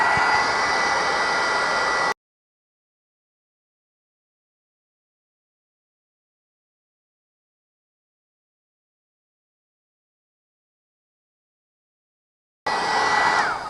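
A handheld heat tool blows steadily while melting embossing powder on a Thanksgiving card, a loud even whoosh for about two seconds, then silence, and the same airy roar returns near the end.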